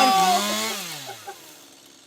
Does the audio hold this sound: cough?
no